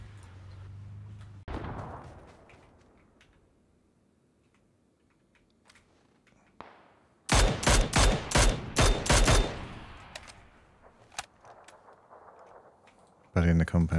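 Rapid bursts of automatic gunfire in the battle royale game PUBG, loud and close, with several quick volleys in a row and a final burst at the end; quieter game sounds and faint activity fill the gaps.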